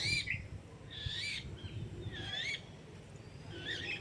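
A young bird being fed by babblers gives four harsh, rasping begging calls at a steady pace, fairly faint against a low outdoor rumble.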